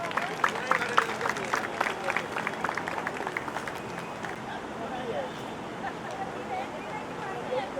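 Audience clapping at a retired railway workers' family gathering, scattered and fairly light applause over the first few seconds that fades into murmuring crowd noise and room babble.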